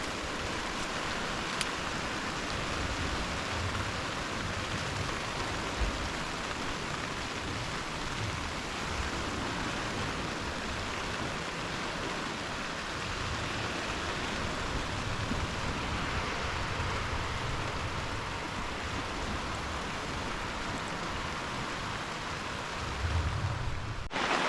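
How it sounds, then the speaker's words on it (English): Dense, steady rain patters continuously on a tent overhead at a beach wild camp, a broad unbroken hiss lasting the whole time with no talking. "it's raining."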